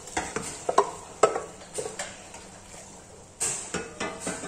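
Marinated chicken goes into a pan of frying onions, ginger and garlic. A soft sizzle sits under repeated scrapes and clanks of a spoon stirring against the pan, in short uneven bursts.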